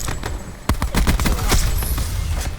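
Rapid bursts of gunfire from a Titan gun in a first-person shooter video game, a loud sharp shot followed by a dense run of repeated shots close up, with no talking.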